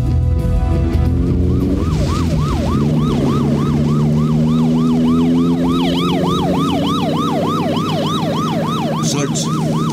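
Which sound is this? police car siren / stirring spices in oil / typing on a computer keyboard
police car siren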